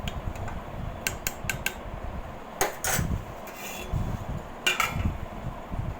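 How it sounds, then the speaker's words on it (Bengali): A cooking pot of rice khichuri is stirred by hand, giving scattered metallic clinks and scrapes over a low, steady background hum. "মা একটু নেড়ে দিল হাঁড়িটা।"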